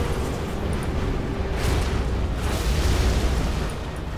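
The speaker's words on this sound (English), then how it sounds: "Did I lose my own unit because of the explosion?" A heavy explosion rumbles through a Command & Conquer Generals Zero Hour battle, a dense, sustained boom with crackling debris that swells and lingers for several seconds without speech.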